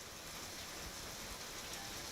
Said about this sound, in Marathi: भर दिवसा अंधार केलेला आहे आणि जोरदार पाऊस बरसतोय